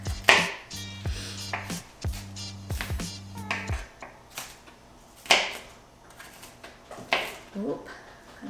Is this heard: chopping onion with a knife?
yes